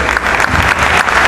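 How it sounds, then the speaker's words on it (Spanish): An audience claps loudly for Tondero dancers at a gathering in Sullana, a dense, continuous burst of applause close by with some crowd noise mixed in. "Lo recibimos con un fuerte aplauso."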